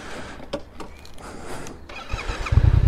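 A car engine held at half clutch hums at a steady, unchanging pace without speeding up, with a deeper rumble swelling toward the end.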